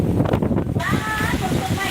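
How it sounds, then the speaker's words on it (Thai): Strong wind buffets a microphone outdoors in rural Thailand, a loud continuous roar and rumble while someone talks over it. "ลมแรงมากช่วงนี้ลมแรงมากครับ"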